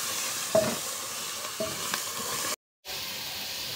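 Herbs being stirred into mahshi stuffing in a frying pan, a soft continuous sizzle with a couple of scraping stirs and a brief dropout near the end.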